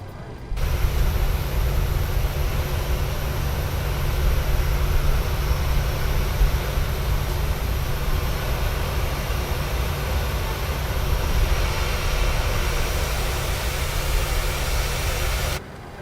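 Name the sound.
Boeing 737-800 engine running after start, from a video game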